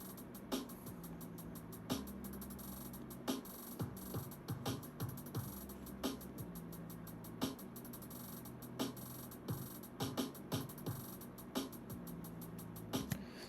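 A produced hip-hop beat's full drum pattern loops at low level, with punchy kicks, crisp snares and ticking hi-hats repeating in a steady groove over a dense, noisy backing bed, with no talking.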